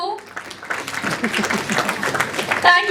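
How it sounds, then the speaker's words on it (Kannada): Loud, dense applause from a studio audience, steady and continuous with no clear gaps, building slightly toward the end. "ಜೋರಾದ ಚಪ್ಪಾಳೆ."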